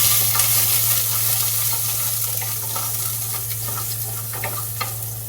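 Garlic sautéing in a pan for Filipino chicken tinola: steady close sizzle and hiss with light stirring and scraping, plus a constant low hum from a burner or fan beneath.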